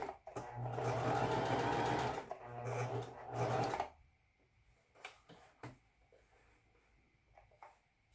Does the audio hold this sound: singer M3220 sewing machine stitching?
yes